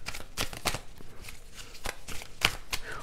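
Tarot cards being shuffled by hand, a series of quiet, brisk riffling bursts with short pauses between them, close and soft, no voices.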